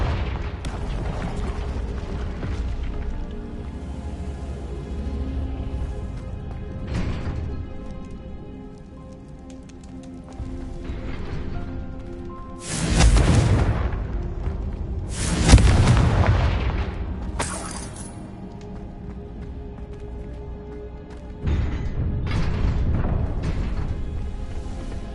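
Repeated Confringo blasting-spell explosions in Hogwarts Legacy, loud booming bursts with crackling debris over a continuous game soundscape, two strong blasts close together midway and another later.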